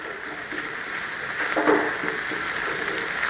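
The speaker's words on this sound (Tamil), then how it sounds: "அந்த முட்டை பார்த்தீங்கன்னா வெள்ளை கலரில், அதாவது லைட் வெள்ளை மஞ்சள் கலந்த கலரில் இது ஃப்ரை ஆகிட்டு இருக்குது" Beaten egg for egg bhurji fries in a pan, a steady hissing sizzle with a brief louder crackle as it is stirred, heard close and without talk.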